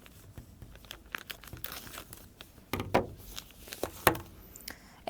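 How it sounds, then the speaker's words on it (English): Oil paper wrapping crinkles around a fuel injector valve assembly in its packaging, with soft scattered rustles and a few louder crackling bursts near the end, close and fairly quiet. "we use this kind of oil paper to wrap it up"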